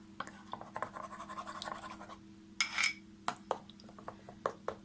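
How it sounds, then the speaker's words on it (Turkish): Melted butter, olive oil and vinegar stirred together in a bowl for a spinach börek, giving close scraping and light clinking strokes with small taps, fairly quiet and without talk. "Güzelce karıştırıyorum."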